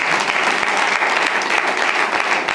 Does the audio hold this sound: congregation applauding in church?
yes